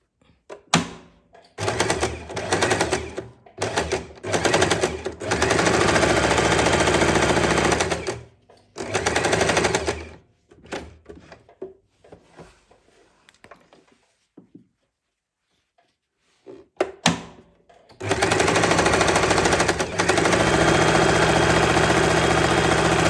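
A sewing machine stitches a churidar, running in loud, close bursts of rapid whirring stitches broken by short pauses and one longer stop before it starts again.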